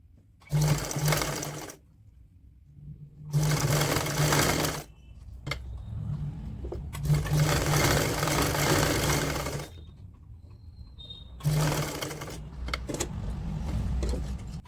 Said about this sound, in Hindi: यहाँ से बराबर करके हमने यहाँ से सिलाई करनी है